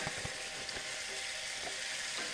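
Ground beef frying in blazing hot olive oil in a pan, a steady, faint, crackling sizzle with occasional small pops, continuous throughout and without any talk.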